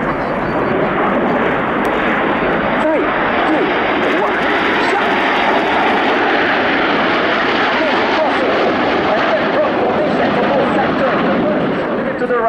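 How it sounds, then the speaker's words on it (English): Frecce Tricolori aerobatic jet aircraft flying past during an air display, a loud continuous roar of engines that holds steady throughout without breaks. "5 aircraft to the left, 4 to the right"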